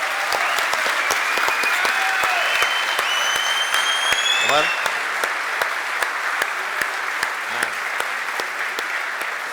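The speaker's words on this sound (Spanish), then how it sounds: "Un aplauso." Audience applause fills a hall at a music event, a strong continuous patter of many hands clapping, loud and steady throughout, with a brief spoken name and a few tonal notes breaking through.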